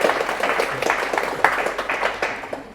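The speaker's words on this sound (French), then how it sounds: "on l'applaudit" Brief round of audience applause at a talk, a crowd clapping steadily and fairly close, tapering off toward the end.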